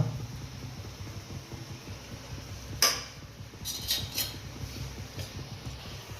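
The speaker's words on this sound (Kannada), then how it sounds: "ಈಗ ರೆಡಿಯಾಗಿರ್ತಕ್ಕಂಥ ಹಲ್ವಕ್ಕೆ ತುಪ್ಪ ಮತ್ತು ಗೋಡಂಬಿನ ಆ್ಯಡ್ ಮಾಡ್ಕೊಳ್ಳೋಣ" Fried cashews in ghee are added to beetroot halwa in a pan. A few sharp metallic spoon clinks and taps stand out against a quiet, low background hum, with no voices.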